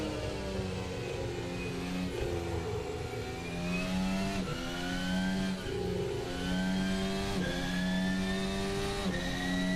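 A Formula hybrid race car at 2025 testing accelerates hard, its engine note climbing through repeated upshifts, loud and close, with no voices.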